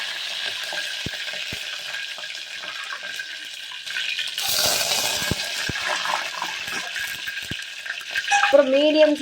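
Curry leaves hit hot oil where mustard seeds and fenugreek have already popped, giving a steady close sizzle and crackle that swells midway, followed by a short stirring clatter near the end.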